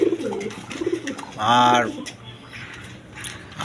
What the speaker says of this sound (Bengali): দর্শকবৃন্দ এখানে এক পেয়ার কবুতর আছে দেখেন, এটা আপনার জার্মান বিউটি